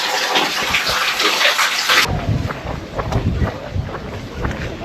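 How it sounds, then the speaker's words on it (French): A small waterfall at a Kyoto shrine pours as a steady rushing hiss, loud and close at first and then softer and more distant, with wind noise and faint voices. "C'est la petite cascade."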